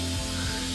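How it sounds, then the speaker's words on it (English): A brief, soft hiss of Scotchgard fabric protector being sprayed from an aerosol can onto clothing, faint and close. "I just spray it on"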